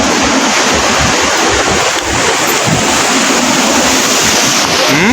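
Strong typhoon wind from Typhoon Tino roaring without a break, loud and close, a broad dense rush buffeting the microphone for several seconds.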